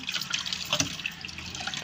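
Tap water runs steadily into a sink while fish is washed for a masala fish fry, a close, continuous splashing and trickling with a few brighter drips and no voices.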